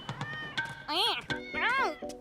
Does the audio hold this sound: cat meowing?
yes